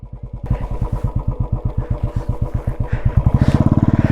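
A motorcycle riding off-road over rocks and pebbles in Ladakh, its engine thumping close and loud in a rapid, steady rhythm that quickens and grows louder toward the end.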